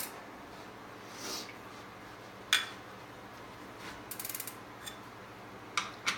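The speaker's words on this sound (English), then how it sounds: "I'm going to turn the wrench towards the front of the bike" A wrench tightens a pedal on a bicycle, giving faint mechanical ticks and a short ratcheting clicks burst, with a few sharper clanks, close by in a quiet room.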